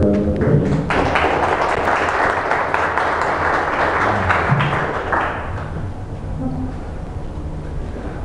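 Audience applause at a Clojure programming meetup in New York, a dense steady patter of many hands lasting the whole stretch, fairly loud and close, with faint murmuring underneath.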